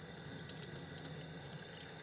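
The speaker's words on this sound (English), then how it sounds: "I'm gonna run it under some hot water." Hot water runs from a tap over a stuck jar lid, making a continuous, even rushing hiss with no voices over it.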